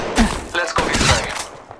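Rapid bursts of gunfire in the mobile shooter Apex Legends Mobile, loud and close, with several sharp volleys overlapping a brief callout voice.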